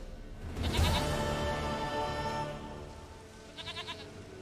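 A goat in the video game The Witcher 3 gives a loud, wavering bleat up close, followed a few seconds later by a shorter, fainter second bleat.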